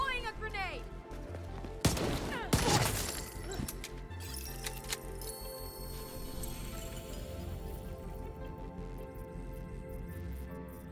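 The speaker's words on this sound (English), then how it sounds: "Deploying a grenade" A grenade goes off during combat in The Division 2, with two sharp, loud blasts and a rattle of gunfire close together. A busy din of firefight noise and hum continues afterward.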